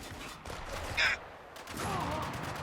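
Gunfire in the video game Spec Ops: The Line, a short burst of rattling shots over a dense, noisy battle backdrop, loud and close, with a sharper crack in the middle.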